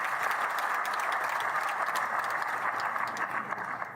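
A crowd applauds for a young woman who became mayor of Ambala, at a live BJP victory event in Panchkula. Dense, steady clapping runs unbroken through the whole stretch, fairly loud and close, with no talk over it.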